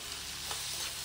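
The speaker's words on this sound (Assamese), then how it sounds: "এতিয়া মাংসখিনি অলপমান লৰাই অলপ সময় ভাজিম" Pork pieces frying in a hot pan for an Assamese pork curry while being stirred, a faint, soft steady sizzle with a brief scrape of stirring in the middle, no talking.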